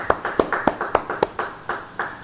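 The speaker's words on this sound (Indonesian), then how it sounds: "Yang percaya beri tepuk tangan bagi dia." A church Bible-study congregation claps in a quick, roughly even rhythm, about a dozen sharp, close hand claps over two seconds.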